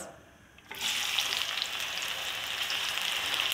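Chopped onions hit hot oil in a home kitchen pan, setting off a sudden loud, steady hiss that keeps going after a brief quieter moment at the start.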